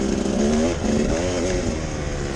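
A Kawasaki KDX200 dirt bike engine buzzes at a steady, unhurried cruising speed through the desert, its pitch wavering slightly. The engine is near and constant, with no voices.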